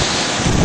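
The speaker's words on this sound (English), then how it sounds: "15 feet of waves, digger. You can see crashing waves." Large ocean waves about fifteen feet high crash along a Hawaiian shore, a loud continuous roar of surf heavily buffeted by wind noise on the microphone.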